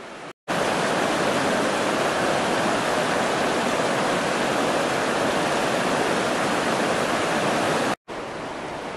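A river rushes steadily beneath the Canterbury Gorge Bridge on the St James Walkway, making a loud, unbroken broadband roar that runs through the whole stretch with only two brief cuts.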